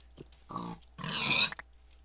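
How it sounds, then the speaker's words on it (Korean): Pig grunts in Minecraft with the Ars Magica mod, two short bursts close up and fairly loud, with a brief pause between them and no talk over them. "야 돼지 돼지 돼지 돼지 돼지"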